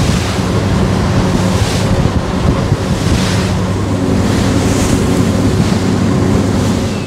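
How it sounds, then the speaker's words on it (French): Strong wind roars steadily into the microphone on a ferry crossing toward Punta Arenas, with surf and the boat's wash mixed into a loud, continuous rush and no voices. "Il y a un vent de folie"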